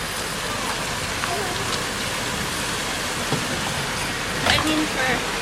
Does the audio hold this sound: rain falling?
yes